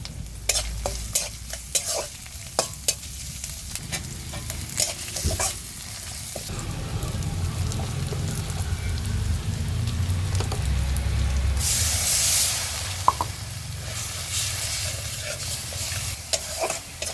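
Chopped onion sizzling in hot oil in a pan with fried garlic and dried fish, with loud spatula scrapes and stirring clatter early on, then a steady frying hiss and a bright spitting flare partway through.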